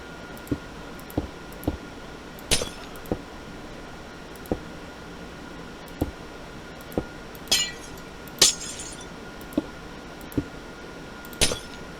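Glass blocks placed one after another in Minecraft while building a glass tower, a series of short, crisp glassy clicks at irregular intervals, a few louder chinks among them, over quiet background.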